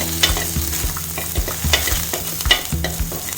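Green chili fries with urad dal and curry leaves in a pan, a close, busy sizzle broken by repeated scraping thumps of a spoon stirring at a quick, uneven rhythm.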